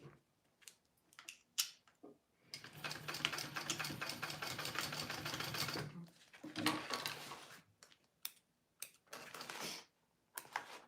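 Sewing machine stitching a binding onto a bowler bag, one steady run of about three and a half seconds, surrounded by short clicks and fabric handling.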